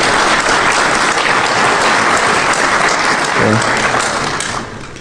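Audience applause fills a conference hall after a live zero-day exploit demo at a Defcon security talk on SCADA systems, loud and sustained clapping that fades out near the end.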